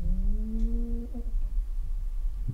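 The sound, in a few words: old deaf cat snoring loudly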